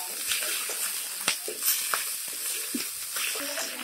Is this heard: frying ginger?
yes